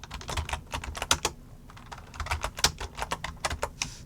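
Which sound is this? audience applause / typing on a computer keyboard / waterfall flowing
typing on a computer keyboard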